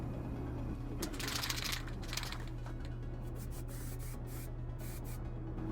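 Quiet bursts of aerosol spray paint hissing onto Boba Fett costume armor in short and longer puffs over a faint steady hum, with some light rubbing between them.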